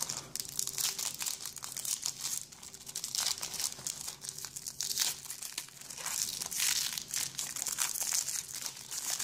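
Pokémon card booster pack being torn open, crisp crinkling and ripping of foil wrapper in close, irregular bursts without talk.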